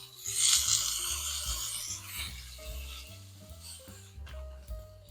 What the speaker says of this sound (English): the idea is to sear this pork loin very fast and very hot